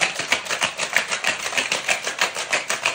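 A cocktail shaker filled with hibiscus and rose petal syrup, shaken hard and fast with a steady back-and-forth rattle of ice, about six sharp strokes a second, close and loud with no speech.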